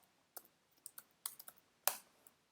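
Code being typed on a computer keyboard: about ten sharp, separate key clicks at an uneven pace, close and fairly quiet, with one louder keystroke near the end and no talking.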